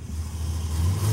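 Orange Camaro engine revving at close range during a hot rod tour kickoff stroll, a loud steady low rumble that swells slightly toward the end, with no talking over it.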